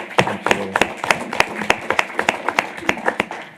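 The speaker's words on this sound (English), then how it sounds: "Hey, Patrick, that deserves an applause, man." Steady rhythmic hand clapping at a city council meeting, a modest group applauding a team member with crisp, evenly spaced claps that carry on without pause, fairly close, with little talk over it.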